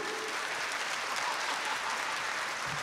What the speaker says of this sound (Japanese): ブルーコーナーハッピーバイブスが良かったの人拍手。